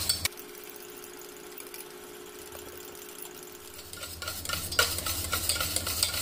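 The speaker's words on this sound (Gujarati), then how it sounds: "આ મલાઈને આપણે આ રીતે લગાતાર હલાવતા રહીશું અને લગભગ 4-5 મિનિટ જેવું લગાતાર એને ફેંટી લઈશું" Malai cream is whisked steadily by hand in a bowl for homemade mango ice cream, a soft continuous stirring and scraping that grows busier and louder toward the end, with no talking.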